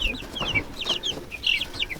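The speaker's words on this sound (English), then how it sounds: "We got some meat chickens in there." Meat chickens on a desert homestead cluck and chirp in short, repeated bursts, several calls close together and fairly near, with no talk over them.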